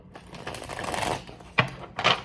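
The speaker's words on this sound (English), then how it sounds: "as I shuffle these cards" Tarot cards being shuffled close up, a rippling riffle of paper followed by two short sharp card snaps, with no talking.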